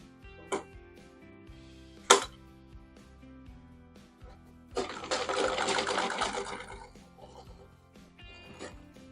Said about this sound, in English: Then I will sew.